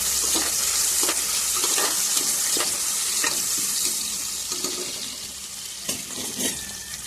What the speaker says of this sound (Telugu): ఇప్పుడు వీటిని అయితే ఫ్రై చేసుకోవాలి. ఈ విధంగా ఫ్రై అవుతున్నప్పుడు ఇందులో బిర్యానీ స్పైసెస్ అయితే వేసుకోవాలి.